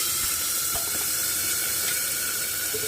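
A little water poured into a hot pan of ginger paste makes a steady, loud hiss and rush of liquid meeting heat, close up and constant for a few seconds, with no voices.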